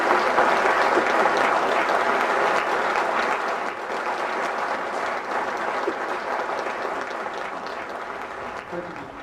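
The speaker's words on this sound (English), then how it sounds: "Please give him a welcome applause." Audience at a lecture in Atlanta clapping to welcome a speaker, a dense, sustained round of applause that slowly fades over about nine seconds, with faint crowd murmur beneath.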